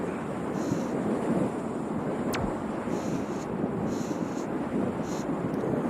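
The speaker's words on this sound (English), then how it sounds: "And then listening to that storm sound really helps" Steady roaring wind buffeting the microphone, broadband and continuous, with a faint surf-like wash and one brief sharp click midway.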